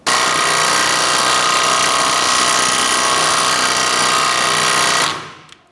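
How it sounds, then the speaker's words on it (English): An air impact wrench on a 2004-2008 Acura TL drives a lug nut tight, drawing a wheel stud through the back of the hub, a steady loud continuous buzzing whir lasting about five seconds, then stopping abruptly with a short fade. "what we're going to do is tighten down the lug nut, and it's going to pull the stud through the back of the wheel hub"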